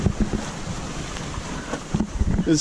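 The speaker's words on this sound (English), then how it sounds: "And we're sailing. I cut the engine." Wind rushes past a Dana 24 sailboat under sail with its engine off, a steady broadband whoosh with buffeting gusts and light water sounds, close to the microphone and with no talking.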